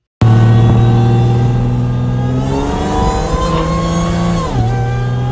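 A supercharged Ford Thunderbird Super Coupe engine with a Magnum Powers MPx supercharger starts abruptly, idles loudly, then revs up with a rising whine and drops back, close and powerful.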